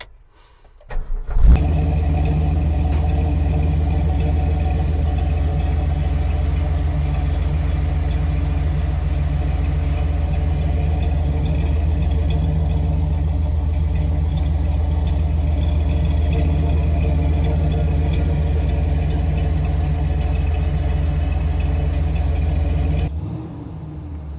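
A 1965 Ford F250 truck engine cranks and catches, then settles into a loud, steady low rumbling idle for about twenty seconds before cutting off, heard close with no talk.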